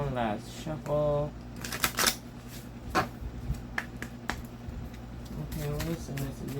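Oracle cards being shuffled by hand, a series of crisp riffling and snapping card bursts with short pauses between, close and fairly quiet, with a person talking in between.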